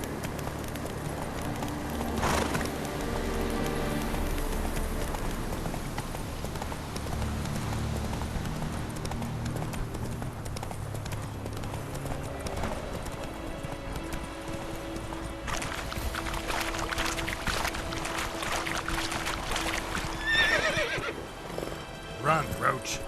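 Roach the horse in The Witcher 3 gallops with a steady, rapid clip-clop of hooves and lets out a neigh near the end, set against a constant swell of game music and ambience.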